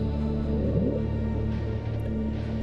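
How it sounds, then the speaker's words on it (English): The Bloop, a deep-sea underwater sound picked up by US Navy microphones, comes through as a low, steady, droning rumble with a brief rising sweep, faint and alone. "it's the sound of a huge unknown underwater creature"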